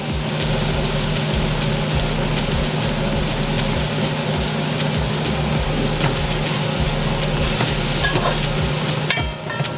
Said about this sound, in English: This just gotta fry for a minute or 2.